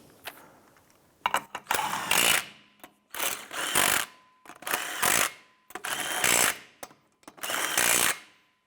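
Impact or power tool snugging down wheel lug nuts on a 2005-2007 Ford Five Hundred during a rear brake job: five loud, close bursts of whirring rattle, each about a second long and separated by short pauses.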